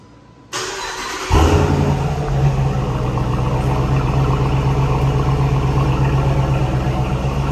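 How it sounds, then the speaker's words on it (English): A Dodge Durango R/T with an SRT exhaust and 50,000 miles cranks and fires up close by, then holds a loud, steady, deep exhaust rumble. "It's a great sounding exhaust, SRT exhaust on this as well."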